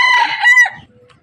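A single loud rooster crow rings out close by, rising and then breaking off into quiet.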